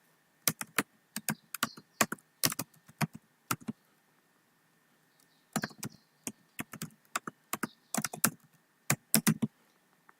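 Close computer keyboard typing in quick bursts of clicky keystrokes, with a pause in the middle before typing resumes; no voices. Entering employee names into a spreadsheet-style payslip program.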